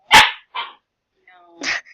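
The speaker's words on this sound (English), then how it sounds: "That's our dog, Dixon." A dog gives a few short, loud barks close by, separated by brief pauses, with a faint whine between them in a quiet indoor room.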